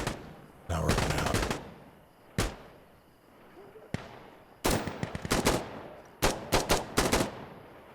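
Bursts of gunfire in the tactical shooter Insurgency: Sandstorm: sharp close shots and short automatic strings, loud and scattered through the stretch with brief quieter gaps.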